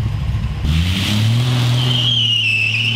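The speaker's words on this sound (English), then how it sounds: "Let's see if we can do a burnout on all on both tires" A stock 1970 Dodge Challenger V8 revs loudly and close during a burnout, its engine note climbing steadily while tires squeal in a rising high whine.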